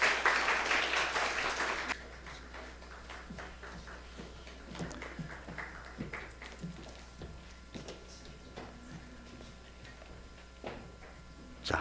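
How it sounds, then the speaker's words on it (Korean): Church congregation applauding after a baptism during a worship service: a brief full burst of clapping that quickly thins out to a few scattered claps and faint shuffling in a quiet hall. "여러분 크게 축하 박수 해 주시기 바랍니다."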